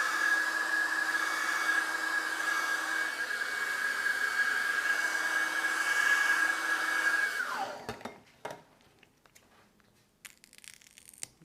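Heat blower warming pulled sugar work, a steady loud whooshing hum with a thin high whine for about seven seconds, then cutting off to leave quiet crackling and light handling sounds.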